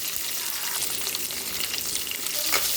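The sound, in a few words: sautéing onions, garlic, chillies and curry leaves in a pan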